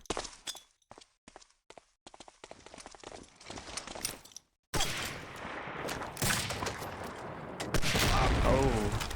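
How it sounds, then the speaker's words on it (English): A grenade blasts in Medal of Honor: Allied Assault after a stretch of sparse footsteps and clicks, bursting loudly into sustained rumbling noise and crackle that swells again near the end. "Oh, big nade."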